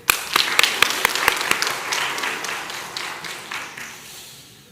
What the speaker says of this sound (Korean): 우리 옆에 있는 성도들에게 격려의 박수를.